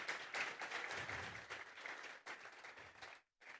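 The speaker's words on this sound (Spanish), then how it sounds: "Dele fuerte esas palmas al Dios de la gloria." Church congregation clapping hard during a worship service, dense continuous applause for about three seconds, then a short pause and a brief final burst.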